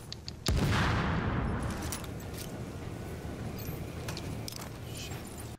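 A sharp close gunshot blast opens a stretch of sustained gunfire in The Division video game, with scattered shots and a rumbling wash that slowly fades under continuing fire.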